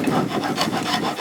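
A heavy-duty old wood rasp files and rounds the bevelled bottom edge of a mortise on a woodworking bench. The strokes are close, rough and rhythmic, with no pause between them.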